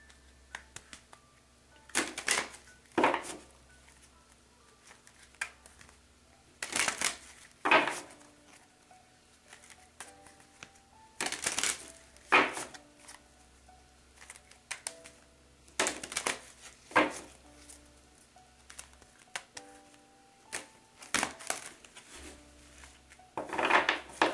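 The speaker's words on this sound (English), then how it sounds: "And I'm pulling 7 cards." Tarot cards are shuffled and pulled in a quiet room, with repeated short bursts of riffling and snapping cards separated by soft rubbing and pauses.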